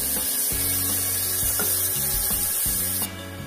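A spoon scrapes and rubs rhythmically through spice paste in a pot of mutton head curry, close and loud with repeated stirring strokes, then drops to quieter near the end.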